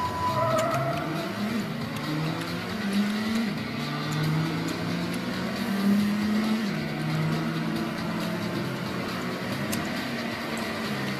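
A sports car engine in the Need for Speed Hot Pursuit 2 racing game, a BMW Z8, drones and revs steadily, its pitch rising and falling through gear changes as a steady, close, continuous roar with no talk.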